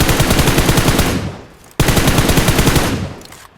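Automatic rifle spray fire from a mobile shooter game comes in two long, loud, rapid bursts, the first trailing off before the second starts abruptly with the same fast rhythm.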